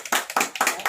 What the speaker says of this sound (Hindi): हाँ जोरदार तालियों से बजाइए।